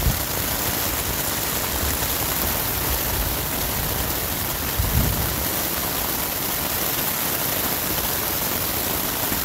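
Steady heavy rain pours down during a mountain thunderstorm at a bivouac near Gstaad in the Alps, a continuous broadband hiss with a brief low rumble of thunder about halfway through.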